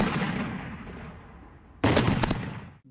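Two loud explosions back to back at night roughly two miles from Lake Ontario, each a heavy boom with a long rumbling decay, the second following about two seconds after the first, alone with no voices.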